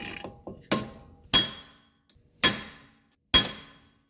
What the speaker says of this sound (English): I'm going to line that punch up and smash it with my hammer.